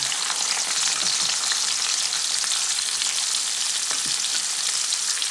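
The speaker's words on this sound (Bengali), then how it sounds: "পেঁয়াজটিকে এরপর হালকা লাল লাল করে প্রথমে ভেজে নিচ্ছি" Chopped onions fry in oil with a loud, dense, continuous crackling sizzle that holds steady throughout.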